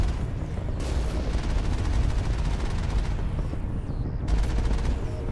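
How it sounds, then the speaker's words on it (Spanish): Gunfire in the video game Mass Effect, loud bursts of rapid automatic shots in two long volleys with a brief lull between them. "Vaya, he fallado mi disparo."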